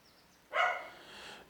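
A single short dog bark sounds from some distance, faint and brief, against a quiet indoor background.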